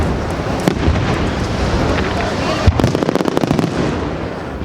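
Aerial fireworks bombing over a Benidorm fiesta, with dense ongoing crackle and booms, then a sharp loud burst followed by a rapid run of popping reports, close and continuous.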